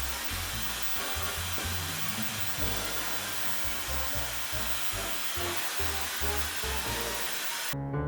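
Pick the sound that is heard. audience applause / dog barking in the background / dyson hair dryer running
dyson hair dryer running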